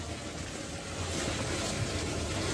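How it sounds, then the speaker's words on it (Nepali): Water gushes steadily into a 200-litre drum, a continuous loud rushing that grows slightly fuller partway through, with no voices. "अब यो 200 लिटरको ड्रमलाई हामी भर्छौँ"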